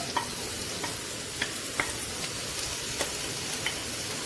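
Chopped onions frying in hot oil in a karahi pan: a steady, dense sizzle with occasional soft clicks of stirring, close and continuous.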